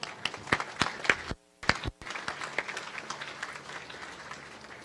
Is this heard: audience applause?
yes